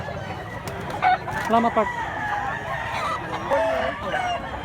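A yellow-legged rooster, about three years old and weighing roughly two kilos, crows and clucks nearby in rural Mantalongon, Cebu, with several short calls over steady background noise while someone speaks briefly.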